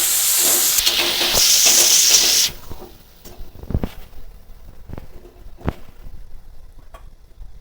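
Salt, turmeric, cumin powder and Kashmiri chilli sautéing in a pan, a loud bright hiss for the first couple of seconds, then quieter scrapes and taps of stirring.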